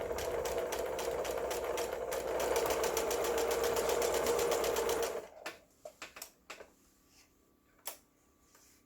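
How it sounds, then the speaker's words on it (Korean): A Singer household sewing machine, freshly repaired after a broken gear was replaced, stitches with a fast, even ticking hum for about five seconds, then stops, leaving a few scattered clicks and light handling noises. "아유, 바느질 잘 돼서 나오네요."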